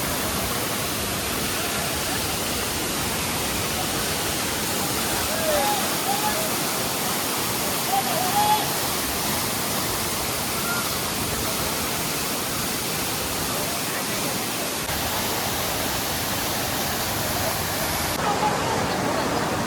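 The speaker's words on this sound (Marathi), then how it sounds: "छोटासा धबधबा आहे" Small waterfall near Dimbhe dam, a steady broadband rush of falling water that holds evenly for the whole stretch, close and fairly loud, with no voices over it.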